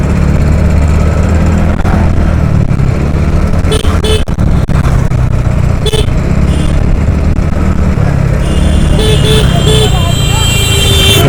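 A TVS Ntorq 150 scooter in street mode accelerates quickly along a road, its engine droning loud and steady throughout, with brief tonal horn-like accents and traffic noise around it.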